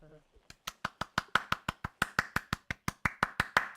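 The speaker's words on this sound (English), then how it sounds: "I don't know if you can hear that. I clapped." A single person clapping hands about twenty times in a steady, even rhythm, each clap sharp and fairly close, with no other sound between the claps.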